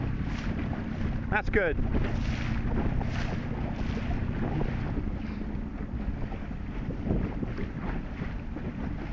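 Steady wind roars across the microphone on a sailboat at sea, with water rushing past the hull throughout; a person speaks briefly near the start.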